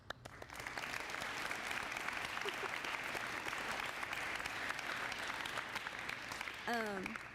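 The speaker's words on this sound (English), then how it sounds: "Quick round of applause." A crowd at a spring sports awards ceremony applauds steadily and loudly for several seconds, the clapping dense and even, ending with a brief bird-like chirp near the close.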